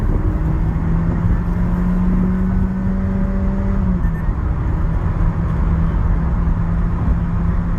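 Honda engine fitted with a Hondata FC1.5 tune box and an AZC exhaust, stock intake and cams, revving loudly up to a steady drone, dropping back at mid-clip and then holding a lower idle-like hum, with no voices.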